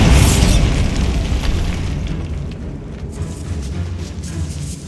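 A Bombarda spell explodes in a decayed catacomb in Hogwarts Legacy, with a loud deep boom that rolls on and slowly fades over a few seconds, with no talk.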